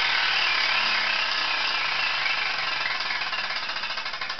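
The clicker on a spinning vintage 1950s 24-inch gaming wheel with stand rattles against the pegs in a rapid, dense, continuous chatter. The ticks gradually slow and separate toward the end as the wheel loses speed, with no talking.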